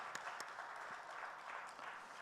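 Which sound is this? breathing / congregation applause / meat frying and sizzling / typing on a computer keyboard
congregation applause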